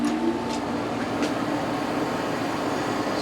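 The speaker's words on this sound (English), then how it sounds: "air conditioner just works like so." The air conditioner of a 2015 Starcraft Comet AR15 camper trailer runs with a steady mechanical hum and whooshing airflow, constant and close throughout, with a couple of faint clicks early on.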